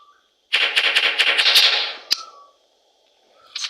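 Video game weapon fires a rapid burst of about a dozen sharp, evenly spaced shots lasting under two seconds, then a single louder crack, followed by quiet and a faint tail of sound at the end.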